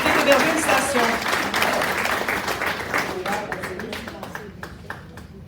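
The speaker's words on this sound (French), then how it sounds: "Je vous demande d'applaudir nos conseillers et conseillères sortants de la municipalité d'Héberville Station" An audience at a municipal gathering in Hébertville-Station applauds outgoing municipal councillors, a dense burst of clapping that starts loud and gradually thins out and fades.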